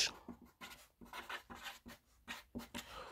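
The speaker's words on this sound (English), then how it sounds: "let me write here" A person writes by hand while working through a Grade 12 financial maths problem: quick rhythmic strokes and scratches, close and fairly quiet, with brief gaps between words and no speech.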